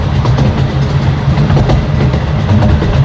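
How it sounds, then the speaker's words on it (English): A zoo train pulled by a diesel locomotive rolls past loudly and close, its engine droning low with a steady rumbling clatter for a few seconds. "I've only heard the diesel running today"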